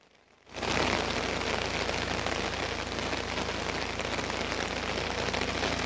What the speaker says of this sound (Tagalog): nagsimula na namang bumuhos yung malakas na ulan dito